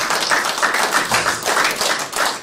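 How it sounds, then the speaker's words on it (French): Audience at a UDPS political gathering at the Palais du Peuple clapping, a lively close burst of many hands with uneven swells and no voices over it. "Je demande d'applaudir comme les candidats"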